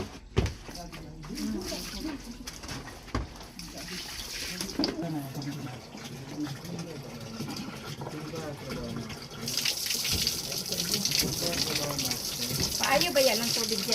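Running water pours and splashes steadily during bathing, growing louder and brighter partway through, with people talking over it throughout.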